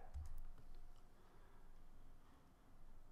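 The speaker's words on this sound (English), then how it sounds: "this time I could just type the top level domain" Light typing on a computer keyboard, a steady run of soft key clicks at close range over a quiet room hum, with no voices.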